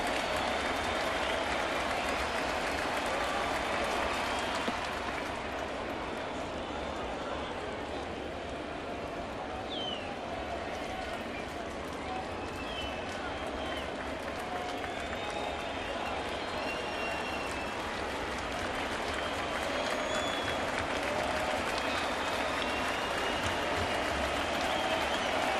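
A sellout baseball crowd at a Red Sox–Yankees game, many standing, keeps up a steady, distant wash of applause and cheering for the whole stretch, with no single voice standing out.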